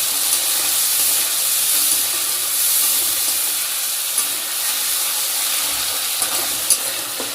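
Water splashed into a hot pan of cashew and poppy-seed paste masala sets off a loud, steady sizzling hiss that holds for several seconds, close up with no voices.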